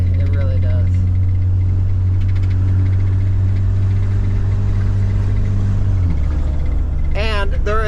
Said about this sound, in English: Listen to my truck. Oh, my truck sounds sickly.